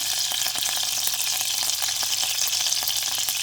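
Garlic, cumin, mustard seeds and curry leaves crackling in hot oil for a tempering, a loud continuous close-up sizzle with small popping bursts and no voices.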